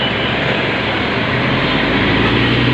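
A city bus pulling up to a stop in Adana near the Seyhan, a loud, steady, close engine roar with broad rushing noise filling the whole moment.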